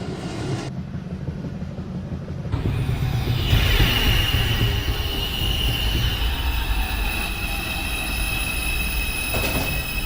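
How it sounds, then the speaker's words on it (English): An automated New York subway express 2 train, R142-type cars, pulls into 215 Street station on the elevated 1/2 line: rumble rises and holds with screeching wheel squeal and a sustained high tone, loud and close, no talk. "Downtown. Express 2 train. Approaching the station, please stand away from the platform edge."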